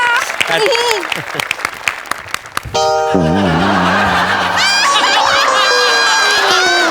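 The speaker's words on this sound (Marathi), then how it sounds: "अरे जोरदार टाळ्या." Studio audience applause at a TV comedy show breaks out with scattered claps and cheering, loud and sustained, while a voice speaks and music with a sustained tone starts partway through.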